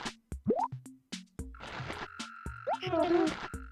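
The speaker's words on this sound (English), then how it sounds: "this mole cricket's so annoying" Chirping and croaking calls of a mole cricket in the GameCube Animal Crossing game repeat in short bursts, joined by game sound effects in a steady, busy mix.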